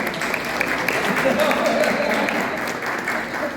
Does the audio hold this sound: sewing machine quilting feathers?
no